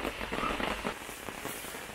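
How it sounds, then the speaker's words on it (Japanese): Heavy rain at an RV park by a hot spring in Tohoku, a steady dense hiss of drops pattering on surfaces with scattered crackling taps, close and continuous. "雨も激しくなってきたので中に避難しますかね。"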